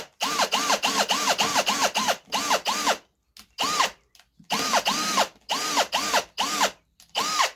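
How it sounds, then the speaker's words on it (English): A power drill bores a hole for a bird perch into wood on a rustic barn-style birdhouse, running in repeated short whirring bursts that rev up and down, with brief pauses between clusters, loud and close. "Now drill a hole for the bird perch."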